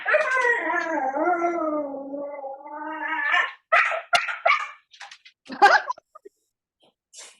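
A dog howls in a long, wavering, drawn-out tone, then breaks into shorter yips and bark-like bursts with gaps of quiet between them; close and fairly loud, with no talking.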